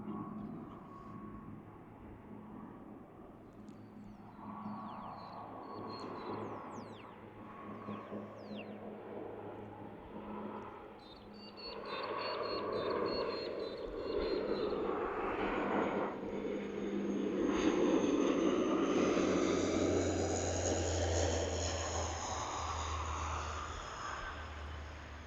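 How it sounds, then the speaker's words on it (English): Light aircraft flying over Canberra Airport, a low droning engine rumble that slowly swells and passes at moderate distance, heard alone without talk. "Light aircraft don't show up on flight radar or on the on the board, the arrival departure board."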